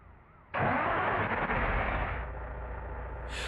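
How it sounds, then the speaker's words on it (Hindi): Diesel truck engine in a truck simulator game cranking and catching abruptly, roaring loud at first then settling into a steady lower idle rumble, with a brief hiss near the end. "दरवाजा बंद करते हैं और इंजन स्टार्ट करते हैं।"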